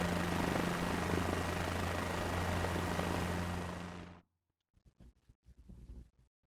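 A helicopter in the video game Microsoft Flight Simulator gives a steady loud rotor and engine drone that cuts off abruptly, followed by a few faint scraping and clicking sounds.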